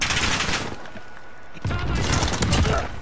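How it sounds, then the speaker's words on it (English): Call of Duty Modern Warfare multiplayer gunfire and an explosion, dense loud bursts that drop out briefly and then surge back in a heavy blast of broadband noise. "I just walked into a random grenade."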